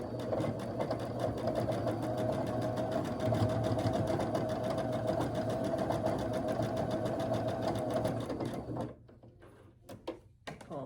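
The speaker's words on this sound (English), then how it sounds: "we're going to just sew straight across to the 1/4 inch" A sewing machine stitches a straight quarter-inch seam across a quilt block, a steady mechanical hum with a light rhythmic ticking, stopping near the end, followed by a few soft handling clicks.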